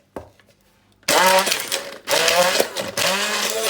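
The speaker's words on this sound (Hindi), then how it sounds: "थोड़ा सा ऑयल ऐड करेंगे उस मिक्सचर को हम बनाने के लिए, ज़रा उसको ग्राइंड कर लेंगे।" An electric mixer grinds a garlic and oil marinade, starting after a quiet moment and running in three loud, whirring bursts separated by brief dips.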